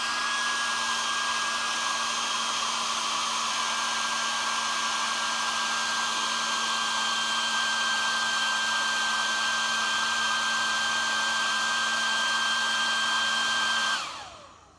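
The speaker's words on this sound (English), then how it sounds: "Now I'm going to put the hairdryer on full heat" A hair dryer running on full heat gives a loud, steady whirring roar with a constant motor whine, then switches off abruptly near the end.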